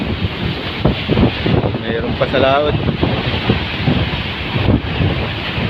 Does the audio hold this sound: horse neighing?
no